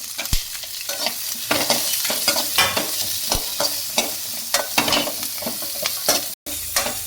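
Onion and tomato sauté in a pan for radish chutney, with a steady close sizzle and repeated scraping stirs, loud and continuous with no talk.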